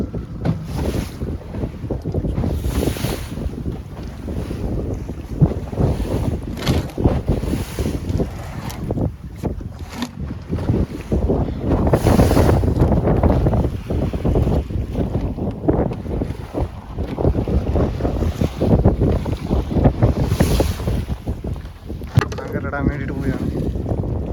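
A fishing boat runs across the deep sea at sunset on its way to anchor for mackerel fishing. Its steady low rumble and water wash continue throughout under heavy, buffeting wind noise.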